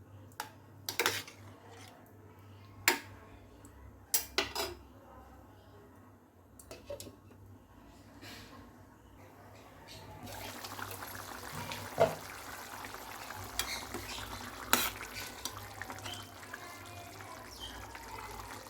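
Dried fish curry simmers in a pot at medium heat, with a few sharp clinks and taps early on, then a soft continuous bubbling and gurgle that grows fuller in the latter half.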